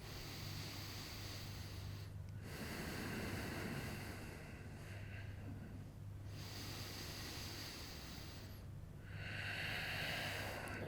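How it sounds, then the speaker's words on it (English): A person takes slow, deep breaths while holding a heart-opening yoga pose with the chest lifted and shoulder blades drawn together. Several long, soft breaths swell and fade at close range over a low steady hum, with brief quiet gaps between them. "Take a couple of breaths."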